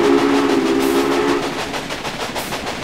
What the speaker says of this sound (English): I can blow the whistle myself.